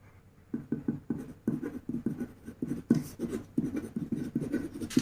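Pen or marker scratching out a math equation on a board or paper during a geometry lesson: a steady run of short, close strokes and taps, with no talking.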